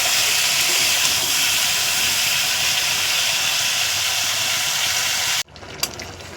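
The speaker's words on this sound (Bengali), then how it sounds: "একটু জিরে গুঁড়ো দিয়ে দিয়েছি, এটা ভালো করে কষাবো" Prawn curry with drumsticks, potato, papaya and cumin powder sautéing in a hot pan: a loud, constant frying hiss that cuts off abruptly near the end, leaving faint clatter.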